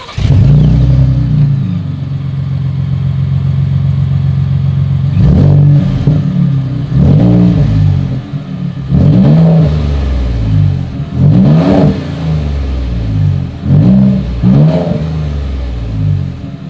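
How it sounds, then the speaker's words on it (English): A 2020 Ford Raptor's exhaust roars through about six repeated throttle blips, each a sharp rev rising and falling back to a deep, rumbling idle, loud and close with no talking. "As always, here is that exhaust clip."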